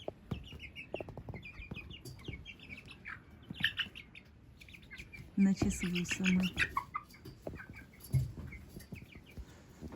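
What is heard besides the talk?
silkie chickens in a greenhouse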